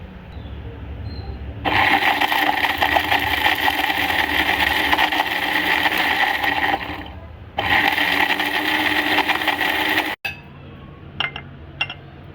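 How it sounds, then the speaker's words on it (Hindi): Electric mixer grinder whirring loudly as it blends whole spices into a dry nihari masala mix, a steady motor roar running in two long bursts with a short pause between, then stopping, followed by a few faint clinks. "अब हम इसे अच्छी तरह ब्लेंड करेंगे और इसका ड्राई मिक्सचर बना लेंगे।"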